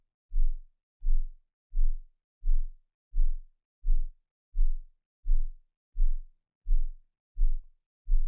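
Deep sub-bass thumps from the Waves Submarine sub-octave plugin at -2 octaves pulse steadily, about eleven evenly spaced low booms, each swelling and fading with silence between them.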